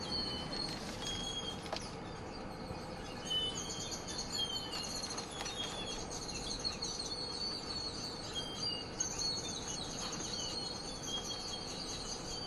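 Grackles gathering to roost in a tree make a dense, continuous chorus of high chirps, squeaks and whistles, with a peacock somewhere in the background, steady and loud throughout with no talking.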